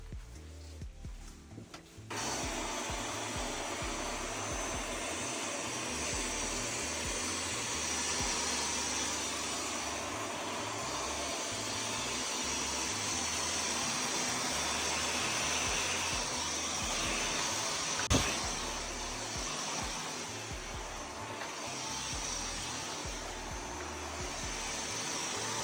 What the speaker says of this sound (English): I'm going to just quickly hoover up around my area so that all the long hair is gone